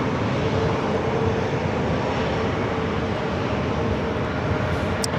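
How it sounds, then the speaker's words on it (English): A JetBlue Airbus A321neo arrives from JFK, giving off a broad, steady jet rumble at moderate distance that holds level throughout, with a brief high click near the end and no voices. "This is JetBlue Airways Flight 723 coming in from JFK on the A321 Neo."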